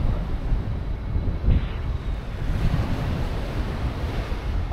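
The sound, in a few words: ocean waves, surf at Kuta beach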